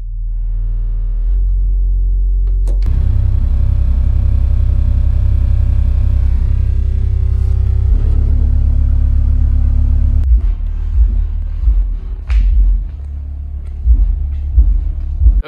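Small SCAR SCR-10 subwoofer sitting on a shop shelf, powered by a 3K amp, pumping loud, heavy, rumbling bass that swells and pulses for several seconds, alone with no voices.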